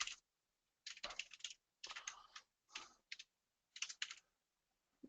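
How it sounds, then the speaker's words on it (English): Computer keyboard typing in short separated bursts of quick clicks, each burst broken by brief silence, close and fairly quiet with no talk. "And then I would type in here."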